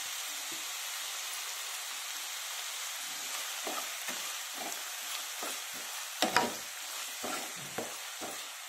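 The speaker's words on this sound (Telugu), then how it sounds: "సాల్ట్ వేస్తే తొందరగా ఉల్లిపాయలు ఫ్రై అయిపోతాయి." Onions frying in a pan with salt added, a steady close sizzle with irregular scraping stir strokes throughout, no talking.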